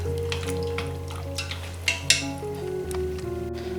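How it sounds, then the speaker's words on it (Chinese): Pork skin jelly broth is stirred in a pot after chicken powder goes in: a low simmering hiss with a few soft clinks and scrapes of the utensil, close and quiet. "加一点鸡粉调一下味儿，搅拌一下"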